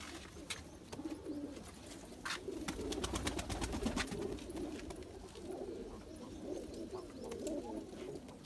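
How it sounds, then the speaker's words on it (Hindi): Pigeons, border pigeons kept by a breeder, coo in soft repeated rolling calls close by, with a few sharp clicks and rustles scattered through and no talk. "कबूतर दिखाते हैं आपको।"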